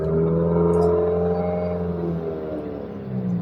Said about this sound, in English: When you start your car and it revs high